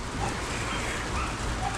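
Light drizzle falling steadily outdoors, a soft continuous patter of rain on surfaces at a moderate, even level with no voices.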